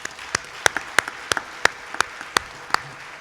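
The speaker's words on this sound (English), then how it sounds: "Can I have another round of applause," Sparse clapping after a Bharatanatyam arangetram dance performance, with about a dozen crisp, distinct claps spaced at a loose, fairly even pace against a quiet room.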